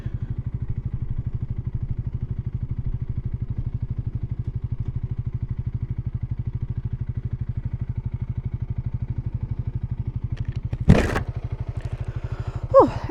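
A motorcycle at the roadside putters close by in a steady, rapid low pulse, then a sharp clunk and a scrape break in near the end.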